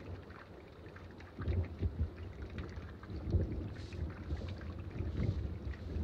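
A spring afternoon rainstorm in the Shenandoah hills, with low rolling thunder rumbling in swells over a steady wash of rain and wind, no voices.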